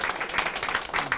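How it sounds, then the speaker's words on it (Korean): An audience claps at a Korean variety-show event, a quick, busy patter of hands at moderate volume that stays steady through the short burst. "다시 한번 크게 박수 한번 쳐주세요"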